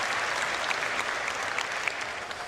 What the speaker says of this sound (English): All right, you can clap.